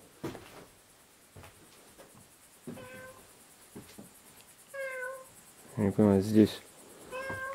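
A cat meows several times in a house, short tonal cries that grow louder toward the end with one drawn-out yowl, while someone speaks quietly in between amid light tapping.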